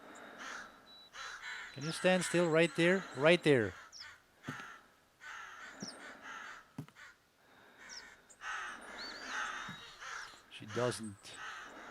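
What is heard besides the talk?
crows cawing in the video game theHunter Classic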